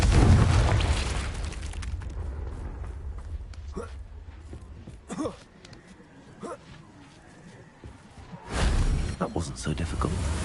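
A Confringo blast spell from Hogwarts Legacy bursts loudly at the start, followed by scattered smaller pops and impacts, then a second heavy booming swell near the end amid game ambience.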